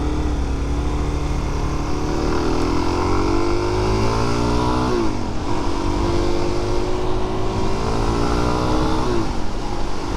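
A Suzuki DRZ400SM motorcycle pulls hard in second gear, its engine note climbing in rising sweeps with a brief dip between pulls, loud and close over continuous wind rush.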